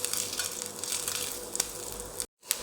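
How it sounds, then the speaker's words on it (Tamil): Coconut pieces frying in ghee for jackfruit pradaman, a steady close crackling sizzle with a brief cut near the end. "தேங்காய் கொத்து நெய்யில் வறுத்து கொடுங்க"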